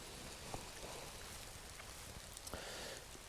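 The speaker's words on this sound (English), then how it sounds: "It's actually started raining now" Rain falling through woodland, a steady soft hiss with occasional louder drops pattering on leaves, fairly faint and continuous with no voices.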